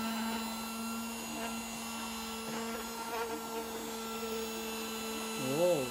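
A small desk vacuum cleaner bought at a flea market runs steadily with a faint electric motor hum and whine, the tone wavering briefly near the end.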